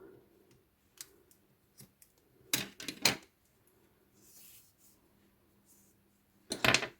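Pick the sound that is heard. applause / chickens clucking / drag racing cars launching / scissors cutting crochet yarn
scissors cutting crochet yarn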